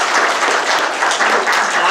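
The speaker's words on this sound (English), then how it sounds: "Let's give him a round of applause." An audience at a cybersecurity conference keynote bursts into loud, sustained applause, dense and continuous for the whole moment, with no voice above it.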